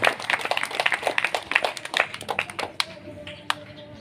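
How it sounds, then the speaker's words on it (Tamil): A church congregation at a St. Anthony feast-day Mass claps in appreciation, a fairly quiet, quick patter of hands lasting about three seconds before thinning out to a few stray claps. "பாராட்டுகளை கைத்தட்டி சிறப்பான தெரிவித்துக் கொள்வோம்"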